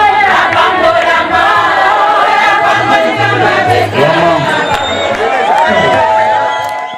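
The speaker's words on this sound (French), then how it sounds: "Dans sa résidence, un grand nombre de fidèles lui a réservé un accueil chaleureux" A large crowd of church faithful in Kinshasa gives a warm welcome to pastor Baruti Kasongo at his residence, a loud, continuous roar of singing, cheering and voices that stays steady and close throughout.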